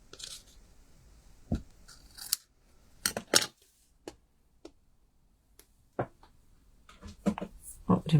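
Scissors trim cardstock for handmade card making, several crisp isolated snips and clicks with quiet pauses between them, close to the listener.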